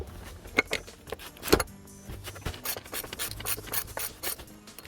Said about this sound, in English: Now we're just gonna use normal ratchet.